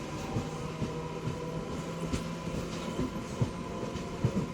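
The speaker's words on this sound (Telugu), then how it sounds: "మధ్యాహ్నం 12:12 మన ట్రైన్ బాలానగర్ రైల్వే స్టేషన్ నుంచి బయలుదేరింది" A MEMU passenger train pulling away from Balanagar station on the Kachiguda–Raichur line rolls along with a steady rumble and regular clickety-clack wheel beats, heard moderately from inside the carriage.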